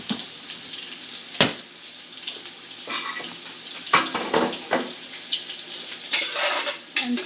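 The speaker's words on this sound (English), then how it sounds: "saute it till everything turns golden brown" Spices and two or three bay leaves sautéing in a pan for mutton stew, a steady close sizzle with occasional stirring scrapes and brief louder spatters, no talking.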